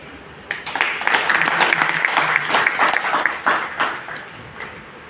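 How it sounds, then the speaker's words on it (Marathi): Applause at a women's cooperative credit society general meeting approving an agenda item: a short burst of clapping from a roomful of people, starting abruptly, holding for about three seconds, then thinning out. "प्रत्येक विषयाला मंजुरीसाठी टाळ्या वाजून"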